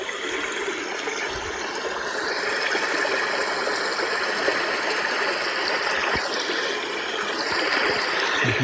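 Steady water sound from a Sound Spa sleep therapy machine, a continuous broadband rushing like a stream or trickle, even and fairly loud throughout without pauses.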